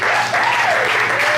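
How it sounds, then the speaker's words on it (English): A comedy club audience at a headline stand-up show applauds steadily and loudly throughout, a dense wash of clapping hands with no pauses. "How about a round of applause for my talented assistant"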